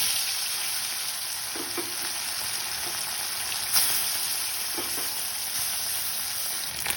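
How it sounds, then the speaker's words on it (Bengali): Small mourala fish fry in a little oil in a wok on a gas stove, giving a steady close sizzle with a few soft clinks of stirring and no talk. "একটি কড়াই গ্যাসে বসিয়ে আমি মাছ ভাজার জন্য অল্প তেল দিয়ে দিলাম।"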